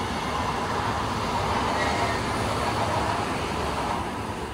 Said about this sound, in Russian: Слышу звук. И это ласточка до аэропорта Внуково.